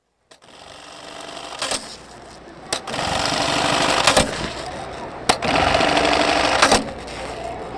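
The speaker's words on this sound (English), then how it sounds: "dozens of women sit in neat rows, heads down, in front of sewing machines" Rows of sewing machines whir loudly and continuously on a factory floor where bulletproof clothing is made, with sharp bursts of rapid stitching rising over the steady din.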